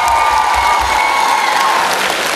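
A concert crowd in Mykolaiv applauds the band's driver: dense, loud, steady clapping with some cheering fills the whole stretch, and faint sustained tones ring underneath.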